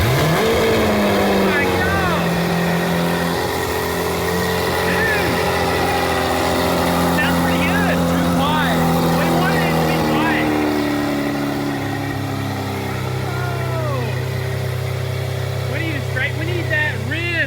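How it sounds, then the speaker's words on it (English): Loud, deep Lamborghini Aventador SV engine with an SVJ-style exhaust revving with rising and falling pitch, sustained roar and crackles throughout; close and continuous. "Let's just see what this Aventador sounds like with the SVJ exit."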